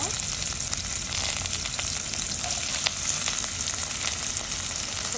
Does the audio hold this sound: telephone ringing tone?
no